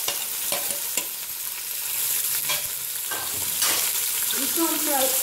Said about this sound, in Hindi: अब इसी ऑयल में हम अपना प्याज शामिल करेंगे।